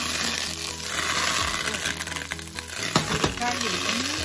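Food fries in hot oil in a pan with a steady, dense sizzle and crackle, plus a few scrapes and clinks of a utensil partway through.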